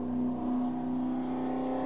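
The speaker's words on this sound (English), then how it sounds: "rather loud motorcycle going by," A loud motorcycle engine roars steadily on a nearby street, a low droning rumble that holds for a couple of seconds without fading.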